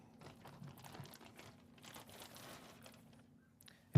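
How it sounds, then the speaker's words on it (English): A cardboard box is pulled out of a plastic evidence bag in a courtroom, giving intermittent close crinkling and rustling over a faint steady hum, ending in a sharp bump. "could you take the box out of the plastic bag"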